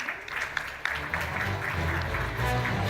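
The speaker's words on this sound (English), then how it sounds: "Let's have a round of applause" Audience applause at a conference hall in India, sustained dense clapping from a crowd that holds steady throughout, with a faint voice underneath.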